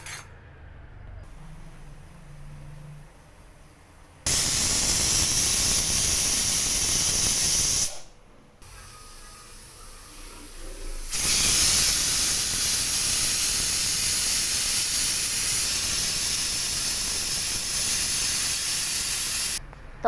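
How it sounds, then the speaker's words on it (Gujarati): A pressure cooker cooking chana dal with bottle gourd and water vents steam in loud, sustained hissing whistle bursts, two long blasts separated by brief lulls, with no voices. "ત્રણ વિસલ થઈ ગઈ છે."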